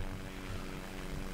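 Propeller airplane engine in the flight game Simple Planes, a steady, loud, continuous drone with a low throbbing hum that holds unchanged throughout, no voices over it.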